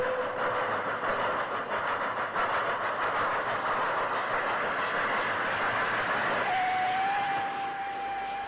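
A 1960s steam rail tour train arrives at Wolverhampton Low Level station, its rolling wheels and coaches producing a steady loud rumble with hiss, joined later by a sustained whistle-like tone.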